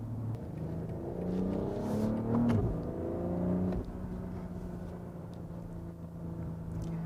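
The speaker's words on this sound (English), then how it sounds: "The accelerations in this vehicle just do not get old" A 2020 BMW X3 M40i accelerating, heard from inside the cabin as a deep engine hum that climbs through the revs, then drops and settles into a steady low cruising drone.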